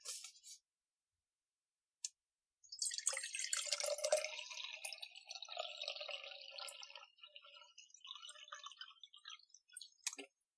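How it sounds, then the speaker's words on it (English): Water poured into a pot as the base of an herbal syrup, a clear liquid splash and trickle lasting several seconds, close and quiet, framed by a few small clicks before and after. "Here, we use some water."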